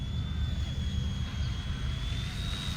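A small Eachine E129 radio-controlled helicopter hovers close by, its motor giving a steady high-pitched whine over a low rotor rumble that stays even throughout.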